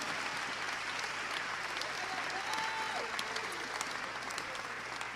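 A church congregation applauds at the close of an evening service, a steady, dense wash of clapping from many hands that fills the room evenly from start to finish with no talk over it.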